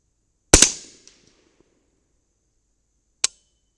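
Two sharp, loud 300 BLK rifle shots from a Ballistic Advantage 10.3-inch Hanson Premium barrel, spaced nearly three seconds apart; the first carries a longer ringing decay, the second is a brief crack.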